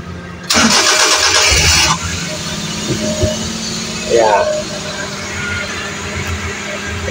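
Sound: multicab engine starting

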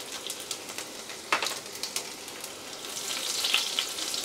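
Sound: chopped garlic and cumin seeds frying in hot oil

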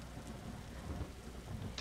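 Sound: rain and thunderstorm in Roblox RoVille video game

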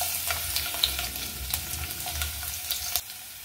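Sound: carom seeds, asafoetida and garlic sizzling in hot oil

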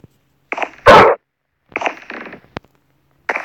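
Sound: dog barking in Minecraft video game

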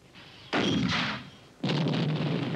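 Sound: 81mm mortar bomb detonation

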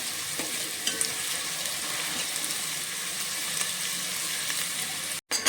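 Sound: onions frying for mutton rassa

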